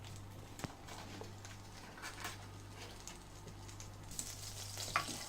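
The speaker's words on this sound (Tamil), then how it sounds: "இப்போ ஒரு டவா வந்து அடுப்பில் வச்சுக்கோங்க. வந்து கொஞ்சம் பட்டர் சேர்த்திக்கோங்க." Butter melts in a tawa on a stove, giving a soft, steady, faint sizzle with a few small pops, no voices, over a low constant hum.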